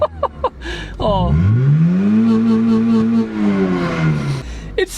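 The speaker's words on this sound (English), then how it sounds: "But we can rev it up." A Honda small engine running on bacon grease instead of oil revs up from its surging idle, a rising then falling mechanical whine held for a couple of seconds, close and loud after a few short blips.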